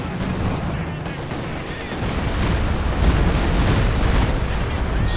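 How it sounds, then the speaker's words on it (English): A walking Stuka rocket barrage in Company of Heroes 2 sets off dense, continuous explosions and gunfire, heard as a rumbling battlefield wash beneath a commentator's talk. "Some walking Stuka barrage."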